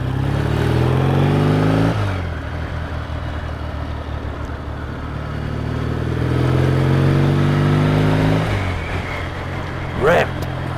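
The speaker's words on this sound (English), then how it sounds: "I do like this sort of like the droning noise when you defrottle on this, so you can hear the boom that the exhausts make." A Triumph motorcycle with pea shooter exhausts drones loudly nearby, its engine note rising and falling as the throttle is worked, with a brief sharp sound near the end.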